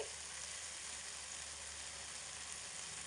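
Pieces of elephant apple (chalta) fry in hot oil in a pan, giving a steady, close, even sizzle with a constant hiss that lasts throughout and no voices over it.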